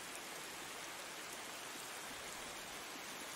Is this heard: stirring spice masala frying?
no